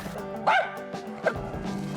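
A hunting dog on a squirrel hunt gives two sharp, close barks about a second apart, with yips and whimpering between them over an outdoor background hum.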